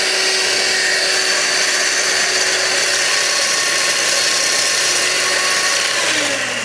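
An electric hand mixer whips egg whites for a spinach and cheese soufflé, its motor giving a loud, steady whirring drone that runs without a break and with no talking.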